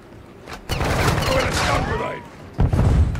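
Gunfire and explosive bursts in Call of Duty DMZ, a loud sustained volley mid-clip followed by another sharp burst near the end, with brief game effects in between.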